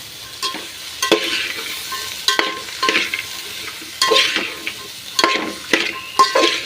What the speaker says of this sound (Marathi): घालते या कट केलेल्या आपल्या सगळ्या भाज्या भाज्या घालून एकदा व्यवस्थित फिरून घ्यायचं